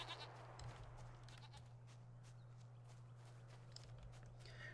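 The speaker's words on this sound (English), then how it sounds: "Oh, they're not even dogs, they're goats." Goat bleats from the video game Jade Empire, several short calls over a steady low game hum, at moderate distance with faint footstep-like sounds, no talking.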